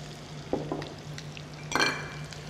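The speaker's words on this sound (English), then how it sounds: "In our pan, we have about 3/4 cup of butter that we've melted down. To that, we're going to add a couple of diced onions." Diced onions going into about three-quarters of a cup of melted butter in a pan, giving a soft frying sizzle with a couple of brief stirring clinks and scrapes, close and moderately quiet.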